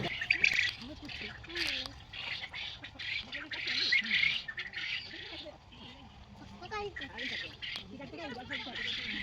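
Emus and ducks squawk and call in a busy, continuous chorus at a rural resort, with high bright bird calls layered over a low murmur of talking people nearby.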